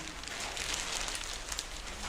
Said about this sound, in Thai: วันนี้ก็คือฝนตกหนักมาก